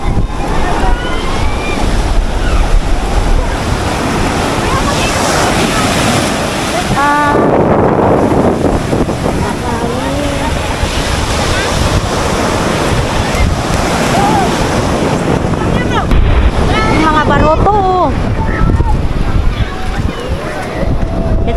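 Strong wind roars into the microphone over crashing surf at the seashore, with people talking and exclaiming in Tagalog in between.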